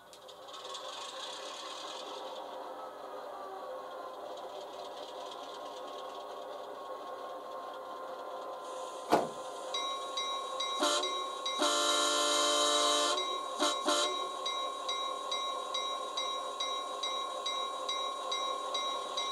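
An ESU sound decoder in a Rapido FP9A model locomotive starts up: a clunk, then a diesel engine idling and building, followed by a long horn blast and a couple of shorter toots, all close by.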